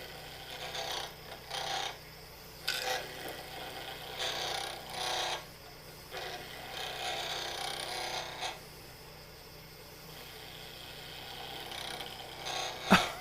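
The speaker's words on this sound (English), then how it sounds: "I'm just going to use a spindle gouge." Spindle gouge cutting a wooden whistle blank spinning on a lathe at about 3,000 rpm, a close scraping, rasping sound coming in repeated passes with short breaks between them.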